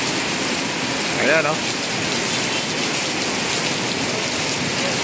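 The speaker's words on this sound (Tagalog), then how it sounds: "Ayun, umuulan pa. Lakas." Heavy rain falls outdoors in a constant close hiss of drops striking surfaces, steady and loud, with a brief spoken exclamation over it.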